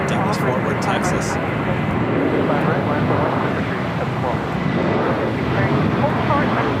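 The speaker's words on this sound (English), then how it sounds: "Next takeoff is JetBlue Airways Flight 1124 heading to JFK and then A321." A JetBlue Airways A321 taking off at LAX, a loud continuous engine roar holding steady throughout with wind rumble, while a voice talks over it.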